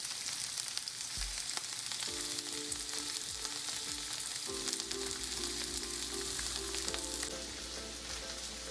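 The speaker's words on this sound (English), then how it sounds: "the salmon just needs time to cook now" Salmon fries steadily in a pan, its skin crisping, giving a continuous loud sizzle and crackle with no talking, while a faint tonal hum runs underneath.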